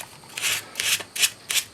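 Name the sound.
rubbing plane iron with 400 grit sandpaper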